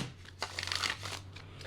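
A deck of pick-a-card reading cards is shuffled in a few quick, soft riffling bursts, faint and close, with quiet gaps between.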